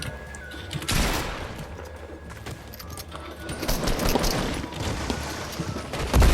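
Shotgun blasts in the Fortnite video game ring out amid busy in-game noise, a few sharp bursts rising above a constant rumble of effects.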